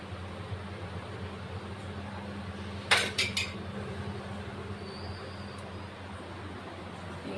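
A metal lid clatters onto a curry pot of cucumber, drumstick and tomato, a short sharp clink with a quick rattle over a low steady kitchen hum.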